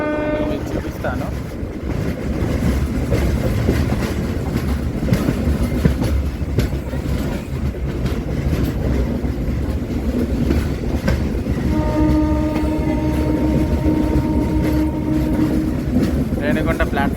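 The Venkatadri Express rumbles along the rails near Renigunta with a loud, continuous rolling roar and rhythmic clickety-clack from the carriage, and a horn sounds in the distance later on.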